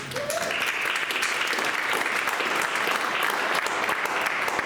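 An audience applauds two speakers being introduced at a talk, a dense, continuous wash of clapping from many hands, steady and fairly loud throughout.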